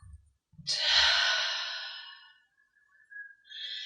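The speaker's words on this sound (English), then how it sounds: "Breathing out." A person in a gentle yoga session lets out a slow, audible breath, a soft breathy exhale close to the ear that swells and fades over a couple of seconds in an otherwise quiet room.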